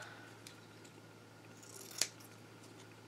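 Scissors snip through satin ribbon with one crisp close cut and another beginning at the end, over quiet room background.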